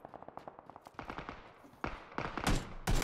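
Gunfire rings out in the PUBG Battlegrounds battle royale: rapid automatic bursts in distinct rhythmic volleys, distant and faint at first, then growing louder and closer, ending in heavy, near shots.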